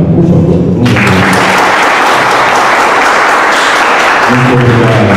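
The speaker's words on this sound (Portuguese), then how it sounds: "eu gostaria que todos aqui rendêssemos uma salva de palmas a todos os moradores aqui de Santana do Ipanema" An audience at an awards event in Santana do Ipanema bursts into loud, dense applause that fills the space, a steady wash of many hands clapping close by, with low voices briefly at the start and end.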